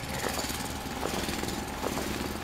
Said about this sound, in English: this drill it's kinda my personal drill for my arm it's uh, better now, so we're digging a little faster